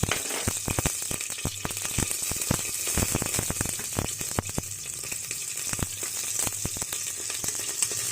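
Ghee sizzling in a hot pan on the stove for moringa flower biryani, a dense, continuous frying crackle with many sharp pops and spits throughout, close and steady, with no talking.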